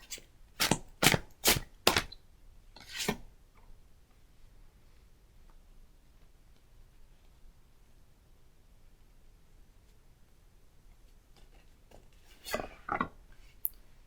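Tarot cards are shuffled in a few crisp riffling bursts at the start and again near the end, separated by a long, quiet stretch of faint room hiss.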